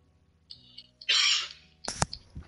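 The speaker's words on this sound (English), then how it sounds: "I've got a cough this morning." A man coughs once, a single harsh burst close by, followed by a sharp clack and faint rustling, against otherwise quiet indoor background with brief faint chirps.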